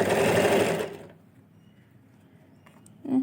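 Sewing machine stitching a pocket onto a nighty, a close buzzing run of fast stitches for about a second that stops abruptly, followed by quiet and a brief restart at the end.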